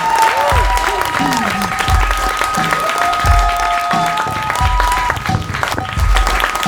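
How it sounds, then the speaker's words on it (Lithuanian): An audience claps after a song of peace, a continuous patter of applause with a voice and some sustained tones running over it. "Čia kol ploja"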